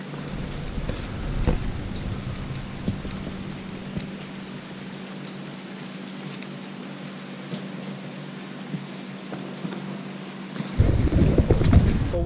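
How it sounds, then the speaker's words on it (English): Steady rain falls at a night market in Sanur, Bali, a constant hiss of drops on surfaces with occasional heavier patters, and a louder burst of splashing near the end. "after days of sunshine and stinking heat, we now have a day of rain"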